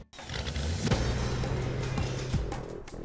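A truck on new wheels and tires drives on a test run, a faint, steady engine and road hum heard from close by.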